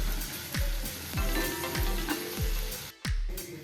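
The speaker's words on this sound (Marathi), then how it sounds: "लसूण आपण आता थोडासा फ्राय करून घेऊया साधारणपणे एक दोन मिनिट" Grated garlic fries in butter, a bright continuous sizzle with regular spatula strokes roughly every half second and a brief dip near the end.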